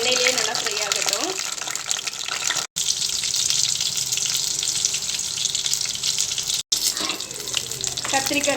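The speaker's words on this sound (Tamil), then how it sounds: "இப்போ இந்த கத்திரிக்காயை நம்ம எண்ணெயில் போட்டு நம்ம ஃப்ரை பண்ணிடலாம்." Brinjal pieces fry in sesame oil in a kadai, giving off a loud, steady, bright sizzle that carries on with two brief cuts and a faint voice in the background.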